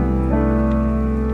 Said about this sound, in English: I just felt a couple of drops of rain.